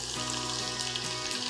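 Garlic frying in hot oil with mustard seeds and cumin for a Maharashtrian kanda zunka tempering, a steady close crackling sizzle with a faint background hum, unbroken throughout.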